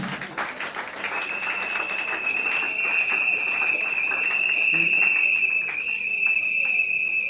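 A church congregation at a pastors' ordination service applauds, a dense sustained wash of clapping from a large crowd, with a steady high electronic tone running through it.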